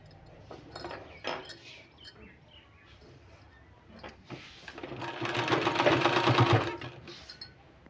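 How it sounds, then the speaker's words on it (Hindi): A sewing machine runs sleeve seams on a garment, starting with short stop-start bursts of stitching and then settling into a louder, steady mechanical whir for a few seconds before slowing down, close by. "इस तरह से दोनों साइड हमने सिलाई लगा के कंप्लीट कर लिया है"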